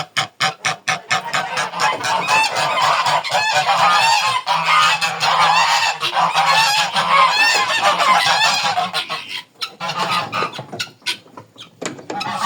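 Loud, insistent honking from several geese close by, overlapping calls in rapid bursts with brief pauses near the end.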